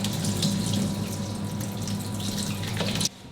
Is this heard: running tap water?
yes